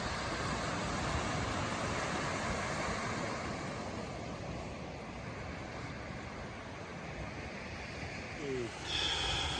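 Continuous ocean surf washes onto East Sombrio Beach on Vancouver Island, a dense, steady roar of breaking waves heard close, with no distinct pauses.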